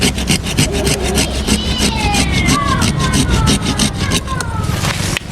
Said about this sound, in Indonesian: kita gergaji saja untuk sisanya ini